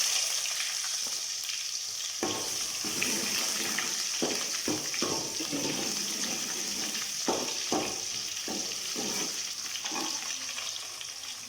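Cut onion sizzling and frying in hot oil for kara kuzhambu, a steady close crackle with repeated stirring scrapes throughout.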